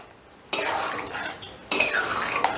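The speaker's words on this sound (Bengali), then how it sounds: "এবারে সমস্তটা একটু ভালো করে মিশিয়ে দিচ্ছি।" A spoon stirs moong dal with paneer and coriander leaves in a pot, making two distinct close scraping passes against the metal with a faint sizzle beneath.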